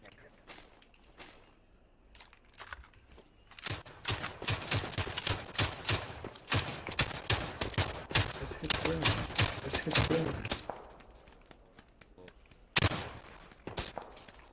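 Bursts of close gunfire in the battle royale game PUBG, rapid cracking volleys clustered over several seconds with a few separate shots before and after, plus running footsteps.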